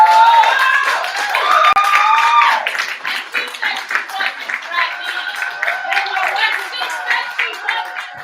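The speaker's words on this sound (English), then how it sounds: "Keep that round of applause for my friend" A poetry slam crowd at Berkeley claps and cheers after a performance, with loud voices and whoops riding over a continuous bed of scattered applause that thins out toward the end.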